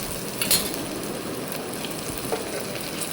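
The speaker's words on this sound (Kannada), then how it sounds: "ಶುಂಠಿ ಬೆಳ್ಳುಳ್ಳಿ ಚೆನ್ನಾಗಿ ಮಿಕ್ಸ್ ಆಗಲಿ ಅಂತೇಳಿ ಚೆನ್ನಾಗಿ ಕಲಿಸ್ತಾಯಿದ್ದೀನಿ" Ginger garlic paste fries in a pan while being stirred, a steady close sizzle with occasional light scrapes and ticks of a utensil, no one talking.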